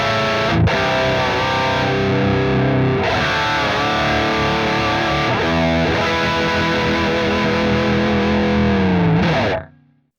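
Distorted electric guitar through an Archetype Petrucci X amp with the master turned fully up, playing loud, continuous riffs with held notes and bends for several seconds before stopping abruptly.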